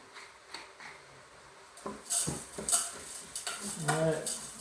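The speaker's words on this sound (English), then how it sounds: "Give that a quick stir around." A spoon stirs ham and dried soup mix in a cooking pot, giving soft scraping and clinking strokes that grow busier toward the end, close by and moderately quiet.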